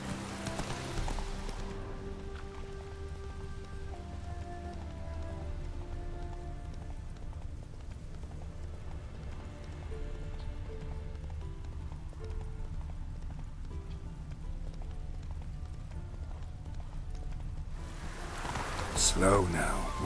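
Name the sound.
horse Roach's hooves in The Witcher 3 video game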